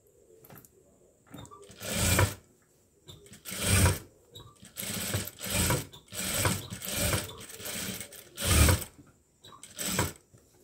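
Several loud runs of a sewing machine stitching a sleeve, rapid close-up mechanical chatter that starts and stops in bursts with brief quiet gaps between them.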